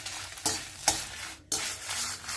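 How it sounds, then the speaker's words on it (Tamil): Dry red chillies and rock salt roasting in a dry pan for sambar powder, giving a gritty rattling stir in a few broad sweeps with a brief pause. "மிளகாத்தல் வறுக்கிறது இந்த மாதிரி போட்டுக்கலாம்"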